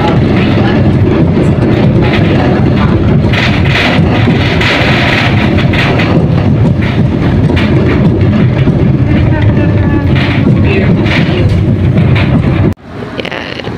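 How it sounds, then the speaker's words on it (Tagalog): Mini sightseeing train rolling through Cologne, Germany, with a loud continuous rumble, rattle and wind buffeting heard from on board, people talking over it, ending in a sudden drop. "nag-round trip kami sightseeing by mini train."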